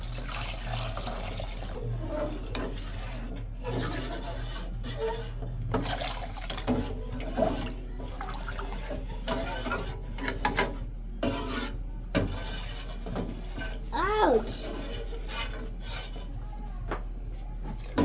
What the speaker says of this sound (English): So you're going to mix everything together. You add water to it.